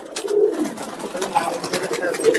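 Soft, low coos of Murshidabadi pigeons repeat through the moment, with faint voices murmuring in the background.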